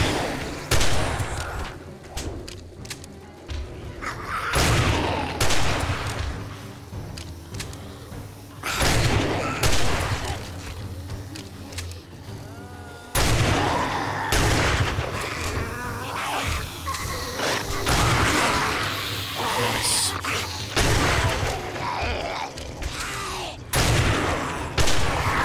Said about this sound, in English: Shotgun's doing work tonight